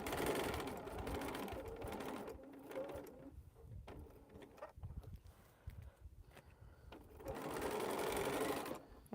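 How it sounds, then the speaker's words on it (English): A sewing machine stitches fabric seams on a quilting project with small mini pinwheel blocks, running in a steady buzzing burst at the start, pausing through quieter handling noises, then running again near the end. "Now let's sew this so I can get the one on here off"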